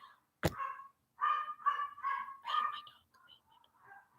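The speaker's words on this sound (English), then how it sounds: "Oh, damn, my dog's barking." A dog barks in a rapid string of four or five yelps at moderate distance after a sharp knock, followed by a few fainter calls.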